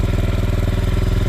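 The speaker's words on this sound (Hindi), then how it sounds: "एक मिनट के लिए स्टार्ट छोड़ दे ताकि गर्म हो जाए बाइक।" A Royal Enfield CB350RS motorcycle, parked with dew settling on it, idles to warm up, its engine a loud, close, steady low thumping rumble with an even rapid pulse.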